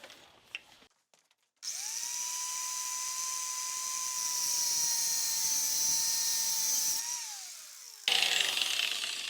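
Grinding tool cutting into a Polaroid Land camera body for a 120 film conversion: a short start, then a loud, sustained high whine with a steady tone for about six seconds, winding down and followed by harsher scraping contact.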